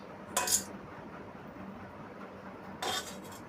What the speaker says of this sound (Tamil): நல்லா கிண்டிகிட்டே இருக்கணும்.